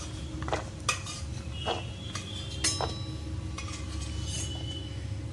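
Pan-roasted almonds are scooped out of a kadhai with a metal spoon, producing several scattered clinks and scrapes against the pan over a quiet background.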